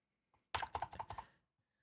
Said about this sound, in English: So I can just start typing